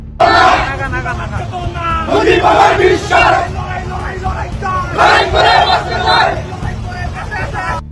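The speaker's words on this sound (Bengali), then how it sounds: "জয় বাংলা জয় বঙ্গবন্ধু স্লোগানে উত্তাল ঢাকা রাজপথ" A large crowd of Awami League supporters chanting political slogans on the streets of Dhaka, Bangladesh: loud, rhythmic massed shouting in repeated waves, with traffic noise and general hubbub beneath.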